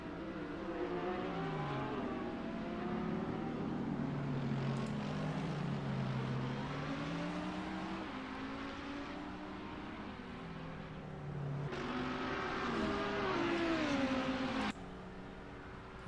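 Several GT race cars, McLarens, a Lamborghini and an Audi, battle closely around Laguna Seca in a sim racing game, engines droning loud and steady with pitch rising and falling through gear changes and corners.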